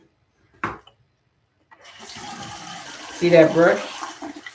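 Tap water runs steadily while a facial cleansing brush is rinsed at a sink. A short knock comes first, then a continuous splashing hiss beneath a close voice.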